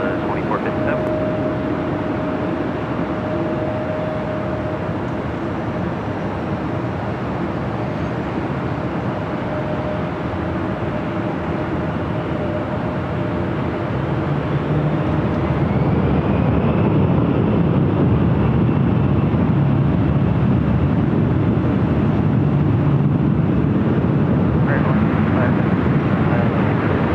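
A Delta airliner takes off from runway 24 left at LAX, a loud sustained jet roar that grows stronger partway through, heard from a distance under radio talk.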